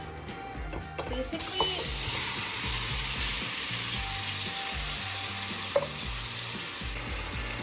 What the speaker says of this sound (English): in a hot pan, let's add all of our beef